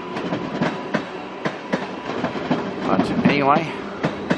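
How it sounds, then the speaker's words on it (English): A train passing the remains of an abandoned platform at a disused Brisbane railway station, rhythmic clicking of wheels over rail joints with a brief squeal, heard under a man's speech. "there goes a train going past the what is left of the platform"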